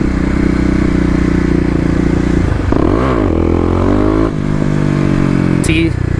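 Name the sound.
KLX250 motorcycle revving for a wheelie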